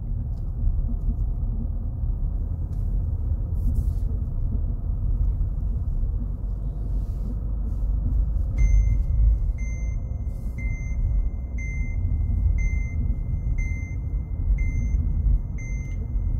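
A Renault Mégane idles in reverse gear under a low engine rumble, and after about half the clip a parking sensor starts a steady run of evenly spaced high beeps that continues to the end.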